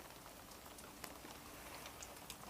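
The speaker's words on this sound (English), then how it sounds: "It's raining, it's cold" Rain falls steadily and faintly in the cold early morning, a soft continuous patter with a few scattered drop ticks and no voices.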